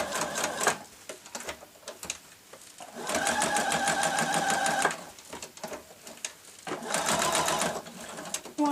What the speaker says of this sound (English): I'm just trying to keep this flat as it goes under the machine